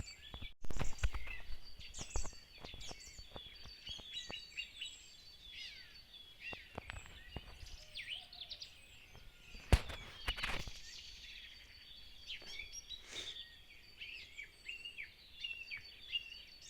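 Songbirds, including a nightingale, trill and chirp continuously among leaves, with rapid varied phrases at moderate distance and occasional rustling and footsteps nearby.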